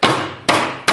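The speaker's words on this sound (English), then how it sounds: "Just grab a hammer" Hammer blows striking a Craftsman axle shaft to knock a part off, three sharp metallic whacks each ringing out and decaying, close and loud with no talking.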